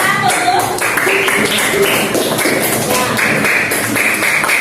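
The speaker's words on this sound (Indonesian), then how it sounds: "beri aplaus untuk kelompok 1" Group applause in a classroom for a student team after their presentation, a dense continuous patter of many hands clapping at steady loudness throughout.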